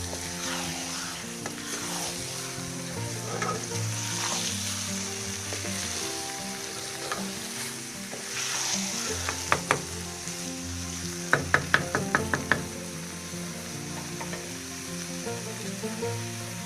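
Carrot halwa with almonds is stirred and fried in a pan, giving a steady close sizzle throughout with a cluster of sharp spoon clinks against the pan near the end.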